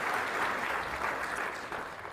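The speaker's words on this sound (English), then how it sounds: "give Gary an applause." Steady audience applause at a Moline state of the city address, a sustained wash of many hands clapping at a constant level for a couple of seconds.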